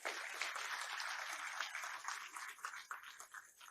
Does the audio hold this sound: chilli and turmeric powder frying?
no